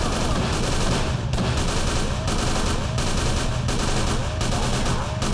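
A magazine being emptied in the video game Call of Cthulhu sounds as rapid continuous gunfire, loud and dense throughout with repeated shot bursts.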